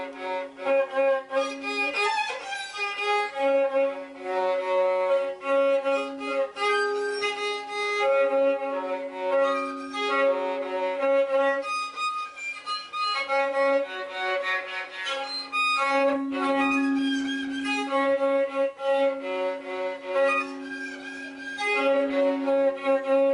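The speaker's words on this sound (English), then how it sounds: "when you actually pick up your violin for the first time, having tuned it, you're probably going to sound a bit like this" A beginner draws a bow across a cheap violin in sustained, slightly rough and wavering notes, played steadily alone at close range with no talking.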